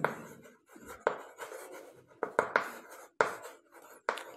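A pen writes on paper while a math problem is worked out, making quiet, close scratching strokes in short bursts separated by brief pauses.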